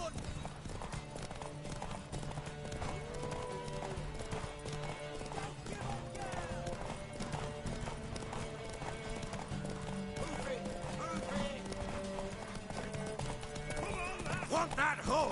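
Hooves clip-clop steadily while a horse neighs, with voices talking over the galloping in a game soundscape.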